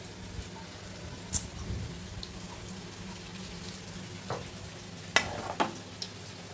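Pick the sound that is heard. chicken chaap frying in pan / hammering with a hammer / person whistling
chicken chaap frying in pan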